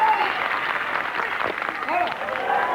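A crowd at a men's fastpitch softball game between the USA and Canada applauds and cheers steadily from a distance, a continuous wash of clapping under a commentator's voice.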